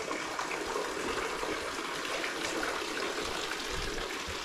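Holy spring water flows at Alagar Kovil temple in Madurai, a steady, even rush of running water that continues unbroken and fairly close, with no voices.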